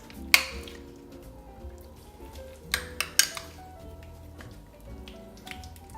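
A utensil stirring minced garlic into butter in a pan, with soft scraping and occasional sharp clinks of metal against the pan rim scattered through the quiet.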